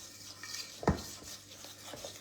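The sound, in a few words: stirring food in a pan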